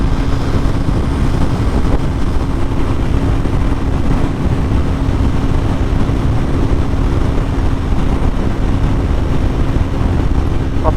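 A 2019 Yamaha R3 motorcycle cruising on a highway. Its steady engine drone blends with heavy wind rush and road noise, loud and unbroken, with no talking.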